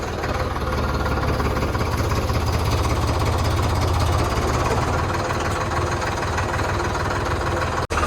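A diesel tractor engine runs steadily up close, a continuous low chugging throb that cuts out for an instant right at the end.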